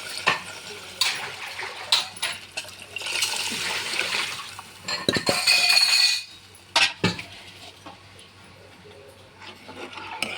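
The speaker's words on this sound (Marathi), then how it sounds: "जे ताक बेसन टाकून रईने हटून घेतलेलं आहे ते मी याच्यामध्ये टाकणार आहे" Buttermilk mixed with gram flour pours into a pot for Konkani kadhi, a few seconds of sloshing liquid framed by clinks of metal utensils and vessels.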